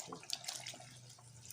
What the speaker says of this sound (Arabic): هحط عليها بقى شويه ميه.